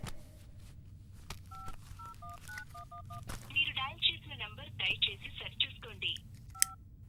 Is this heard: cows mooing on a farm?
no